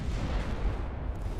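A deep, rumbling torpedo detonation against a warship in the naval strategy game Ultimate Admiral Dreadnoughts, a low muffled boom that rolls on briefly at moderate volume.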